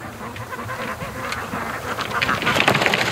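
Muscovy ducks gather on a lake dock, giving breathy hisses and scattered quacks amid outdoor bustle, fairly close and growing louder and busier toward the end.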